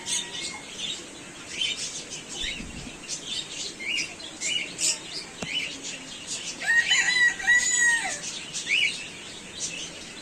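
A rooster crows once midway, a drawn-out call standing out over steady background chirping from many small caged birds in a park.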